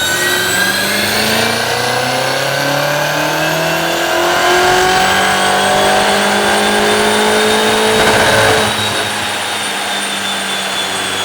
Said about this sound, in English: The thing shook the ground when it did its dyno run.